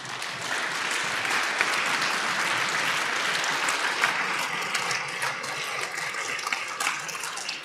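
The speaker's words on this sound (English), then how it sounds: "Let's give them one big applause for that one extra problem they went." Audience applause at a programming contest closing ceremony for a team that solved eight problems, dense clapping that holds steady and loud, with some sharper individual claps standing out.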